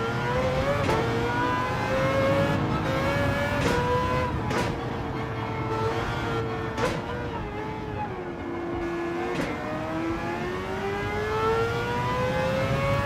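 A race car engine in Gran Turismo 7 drones loudly and continuously, its pitch sliding down and back up through gear changes, with short sharp shifts breaking the steady tone.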